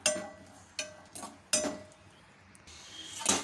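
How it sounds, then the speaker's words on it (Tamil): Cashews and raisins roasting in ghee in a pan, with several sharp clinks of a spoon against the metal pan spaced through the clip and soft sizzling in between. "இப்போ அதையும் சேர்த்துட்டு நம்ம வந்து நல்லா வறுத்துக்கலாம்"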